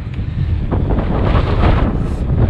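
Strong wind buffets the microphone on a sunny but sticky muddy UK trail during an e-bike ride, a steady loud rumbling roar that persists throughout.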